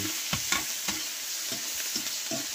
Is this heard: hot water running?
no